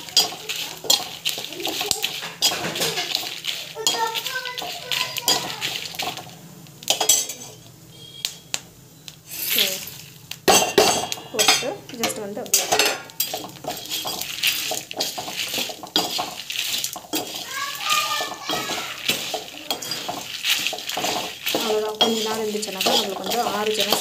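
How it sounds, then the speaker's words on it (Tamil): Grated coconut stirred and sautéed in a pan until roasted, with scraping utensil clinks and pan knocks in uneven bursts, some quieter pauses, and a voice talking over parts. "இதை நல்லா ரோஸ்ட் ஆகிற வரைக்கும் வதக்கணும்."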